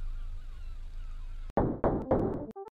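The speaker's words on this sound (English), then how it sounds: "Oh, that's loud. Who closed the door?" A door slams shut in the Rental horror game: a sudden heavy thud breaks a quiet ambient drone, followed by a few loud knocking bangs in quick succession, close and prominent.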